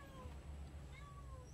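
A hungry domestic cat meows insistently for food, several drawn-out cries rising and falling over a low background hum, fairly faint and with no talk over them.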